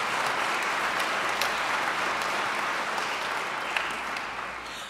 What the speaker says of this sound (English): Let's give our wonderful students a big round of applause for being in attendance.